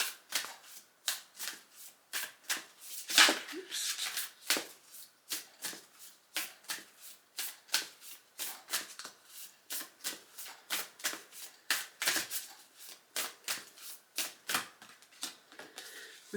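Oracle cards shuffled by hand in a quiet room, producing a long steady series of crisp riffling bursts that repeat at a fairly even rhythm, close and clear with no talk.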